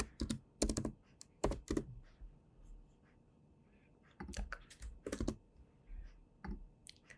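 Two bursts of keystrokes on a computer keyboard while designing a website, separated by a quiet pause, close and crisp with no talk.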